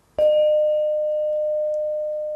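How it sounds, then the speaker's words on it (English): A single bright synthesized glockenspiel note strikes and rings out steadily, slowly fading over a couple of seconds in otherwise quiet surroundings. "So I've put a Glock sound"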